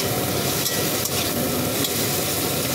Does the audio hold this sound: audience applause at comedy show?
no